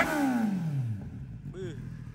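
A Kawasaki ZX6R or ZX10R 40th Anniversary Edition, fully modified, revs during a sound check: a quick rising-then-falling engine blip at the start that dies away, followed by a brief voice.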